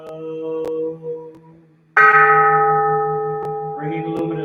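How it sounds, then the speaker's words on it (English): A Buddhist temple bell struck during chanting: a struck bell tone rings and fades, then a second loud strike blooms and decays slowly with sustained overtones over a low chanting drone. "the sound of this bell pervades the universal Dharma realm"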